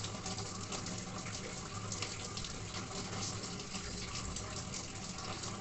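Water running from a kitchen tap, a steady, even rushing stream that holds constant throughout, fairly soft and alone with no voices.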